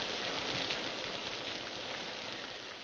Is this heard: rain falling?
yes